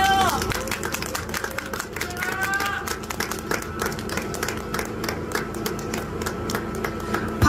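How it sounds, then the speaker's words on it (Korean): A crowd claps at a by-election campaign event in Gokseong, South Korea. Many hands make distinct, uneven clapping that goes on steadily, with a brief tonal sound near the start and faint crowd murmur underneath. "박수 한번 부탁드릴게요."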